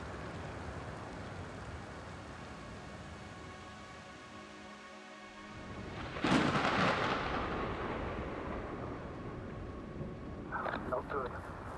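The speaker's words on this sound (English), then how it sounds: "The storm's raging." Thunderstorm in the video game The Invincible: a low rumble of wind and rain, then a sudden loud thunder crack that rolls away, with a voice talking underneath.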